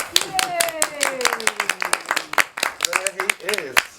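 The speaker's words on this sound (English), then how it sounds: "ladies and gentlemen, a round of applause" Scattered clapping from a small audience at a film Q&A, uneven sharp claps over about four seconds, with voices talking over them.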